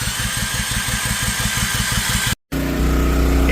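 A combine harvester engine cranks and turns over in a loud rapid rhythmic chug, then after a brief cut settles into a steady deep running drone close by.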